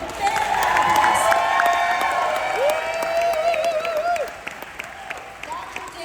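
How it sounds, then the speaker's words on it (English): Audience applause and cheering for Dr. Dan Goodwin at a Utah convention, a steady wash of clapping from a crowd with whoops and voices mixed in, tapering off toward the end. "Dr. Dan Goodwin, can you give Dr. Dan Goodwin a big round of applause?"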